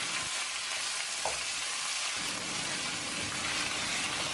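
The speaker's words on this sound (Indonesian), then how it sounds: "Kemudian kita tumis-tumis lagi sampai nanti setengah mateng." Noodles and long beans are stir-fried in a pan for street-food-style mie, giving a loud, continuous close sizzle with scraping stirs throughout and no talk.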